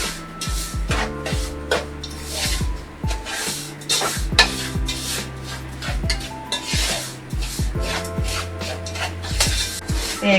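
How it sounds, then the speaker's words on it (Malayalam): Sugar is stirred into semolina in a pan for rava laddu, producing rhythmic, repeated close scraping and rubbing strokes against the pan with occasional metallic knocks. "നന്നായിട്ട് പഞ്ചസാര ഈ റവയിലേക്ക് ഒന്ന് മിക്സായി മാറിയാൽ മതി"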